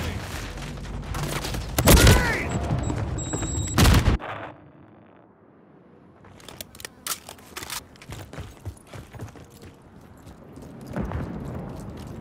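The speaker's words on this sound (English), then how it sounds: "Flash grenade!" Flash grenade going off in a Call of Duty video game, two sharp loud blasts followed by a muffled ringing lull, then scattered gunfire and clatter returning in the distance.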